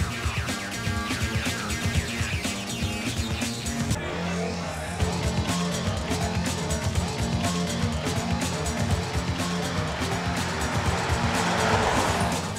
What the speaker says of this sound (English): Down into drive, and off we go.